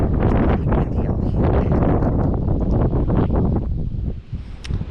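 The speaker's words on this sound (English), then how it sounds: "It's pretty windy on here." Strong wind blowing outdoors during a mid-morning fishing trip, a loud, constant rushing buffet against the microphone that eases slightly near the end.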